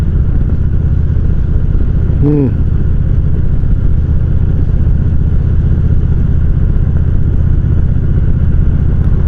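A motorcycle ridden on an early-season ice breaker ride, its shocks freshly refilled with oil, gives a steady, unbroken engine drone with wind rush, plus one brief rising chirp near the start.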